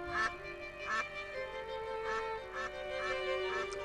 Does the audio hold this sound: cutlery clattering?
no